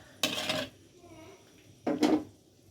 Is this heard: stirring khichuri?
yes